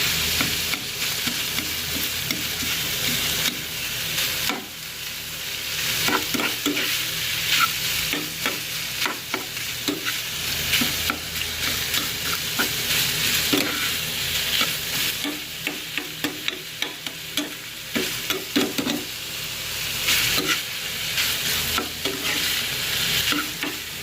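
Ground pork fries in a pan while being stirred, a continuous sizzle broken by repeated scraping and clacking of the utensil against the pan, close and loud, with no talking.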